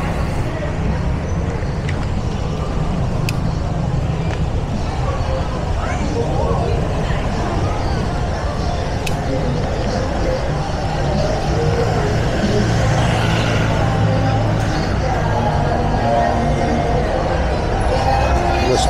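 Gridlocked traffic on Soi Buakhao in Pattaya: a dense, steady roar of idling engines and road noise close by, with scattered clicks and a brief horn-like tone partway through, continuous throughout.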